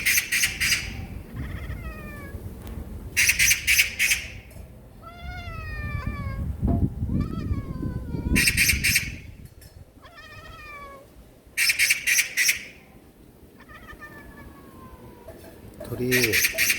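A cat chatters at a magpie that has come close, giving repeated short bursts of rapid chirping and twittering calls, fairly near, with pauses between them and a low rumble of background noise underneath.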